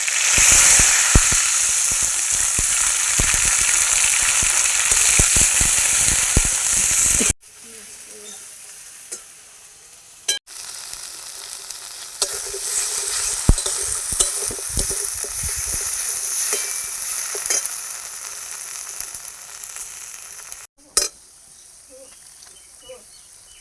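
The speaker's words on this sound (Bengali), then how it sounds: "জিরে ফোড়ন দিয়ে দিলাম বেটে রাখা মশলা" Cumin seeds and ground spice paste hit hot oil for a prawn malaikari, a loud fierce sizzle that drops abruptly, then returns in several bursts with stirring, crackles and brief quiet gaps.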